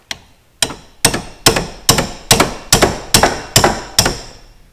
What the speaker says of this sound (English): we'll get the big hammer out. And we'll just give it a bit of a beat